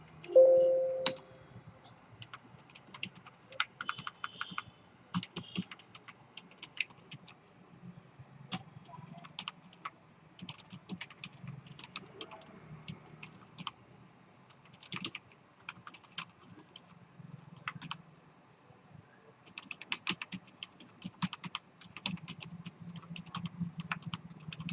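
Scattered, faint keystrokes on a computer keyboard as code is typed into Turbo C++, irregular taps and short runs spread over a quiet background with no one speaking.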